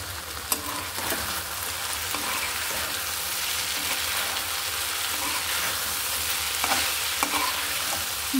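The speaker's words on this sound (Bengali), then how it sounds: "ভাজিটা হয়ে গেছে।" Vegetable bhaji fries in a pan with a steady, close sizzle, while a spatula scrapes and stirs at irregular intervals throughout.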